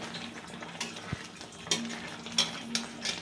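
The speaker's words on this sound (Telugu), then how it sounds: "మనం దగ్గర ఉండి కలపాలి, హైలో సిమ్లో పెట్టి కలపాలి" A spoon stirring raw mango jam syrup as it thickens in a pan on the stove, with repeated scraping strokes and light metallic clinks over a soft bubbling sizzle.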